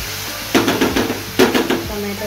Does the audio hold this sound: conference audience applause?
no